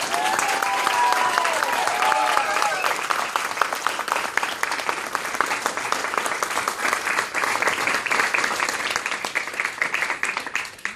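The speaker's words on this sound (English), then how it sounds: "everyone give them a round of applause" A crowd at a women's political conference applauds, steady broad clapping that holds for the full stretch, with a few voices briefly audible near the start.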